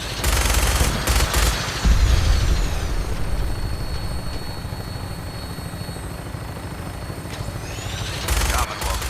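A helicopter flies through the Fallout 4 wasteland, its steady rotor roar continuous throughout, with bursts of gunfire crackling over it near the start and end.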